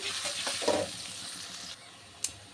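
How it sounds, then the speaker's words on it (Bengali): Chopped onion frying with spices in a pan for a beef and jackfruit curry, giving a steady, close hiss of sizzling oil with faint stirring scrapes throughout and a brief sharp clink near the end. "পেঁয়াজটা আমি ভালো করে ভেজে নিব"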